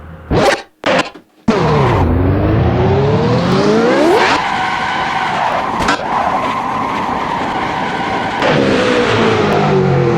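A car engine at 100% turbo in third gear: after a few short bursts, it revs hard and climbs in pitch, loud and close, with tires skidding and squealing throughout.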